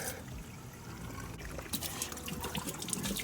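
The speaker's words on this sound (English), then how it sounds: "I just want to see clear water come out the bottom for as long as I can" Water trickles and splashes steadily out of the bottom of a Mazda Miata engine, a continuous wet pouring sound that grows slightly busier toward the end.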